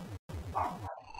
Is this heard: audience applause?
no